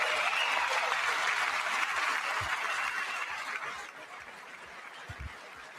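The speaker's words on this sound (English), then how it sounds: "I wasn't sure if anybody even on this side was going to applaud for that." An audience at the 2026 State of the Union address applauds in a dense, steady wash of clapping that slowly fades, heard at a distance through a broadcast.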